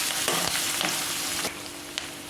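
Green chillies and curry leaves frying in hot oil for kanda poha, a steady loud sizzle with faint stirring clicks, close and continuous.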